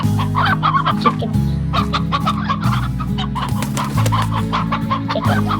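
Chickens cluck and squawk in the video game Slime Rancher, a steady flock of overlapping calls over a constant low in-game hum, loud and close throughout.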